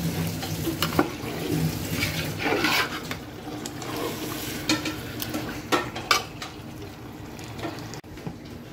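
A big pot of chicken biryani, two kilos of chicken with rice, gets stirred with scraping and clanking ladle strokes over a soft sizzle, irregular and close, with no speech.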